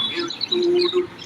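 Newly hatched lovebird chicks in a nest give short, thin high chirps in a quick irregular series, close and fairly clear.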